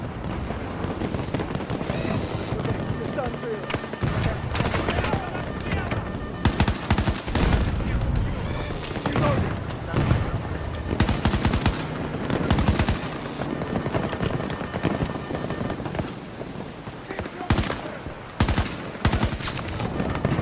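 Rapid automatic gunfire from the video game Battlefield 2042 rattles in dense, loud bursts for the whole stretch, with heavier volleys and explosive cracks layered into a chaotic firefight.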